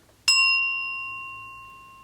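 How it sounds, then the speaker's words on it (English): A small meditation bell struck once, a bright clear ding that rings on with a long, slowly fading sustain in a quiet room. "Look at this little bell. I love her. Okay, so beautiful ding."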